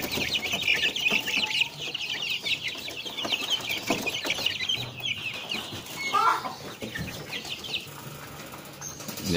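Young broiler chickens cluck and chatter continuously at close range in a farm coop, with bursts of wing flapping breaking through the busy flock noise.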